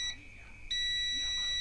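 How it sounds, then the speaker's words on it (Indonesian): Cosmos CRJ-6021N rice cooker buzzer under repair testing, giving a short high electronic beep, a pause, then a longer sustained tone, close and clear with faint background hum. "ini kan buzzer berbunyi"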